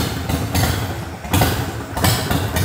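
A Harley-Davidson Sportster 1200 cc custom chopper engine runs at a steady idle, loud and close, with rhythmic pulsing and brief surges in level.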